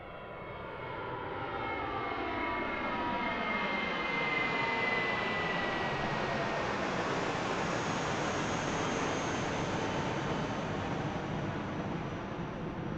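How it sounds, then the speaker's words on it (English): A jet airliner at full takeoff power departs Christchurch Airport. The engine roar swells to a loud, steady, close-by rumble with a whining tone sweeping downward, and it holds strong throughout. "Another full noise departure here."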